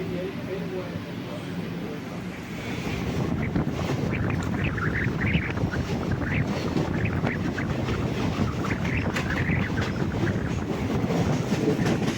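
The KSR Bengaluru InterCity SF Express rumbles along steadily on its Ernakulam to Coimbatore run, a continuous rolling roar with rattling carriages and wind buffeting the microphone, growing louder after a quieter opening.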